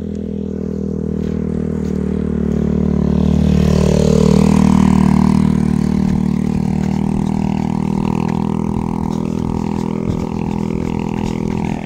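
A motorcycle engine labors loudly and steadily while climbing a very steep mountain road in Surigao del Norte, the drone swelling in the middle with rising and falling revs, no talk heard.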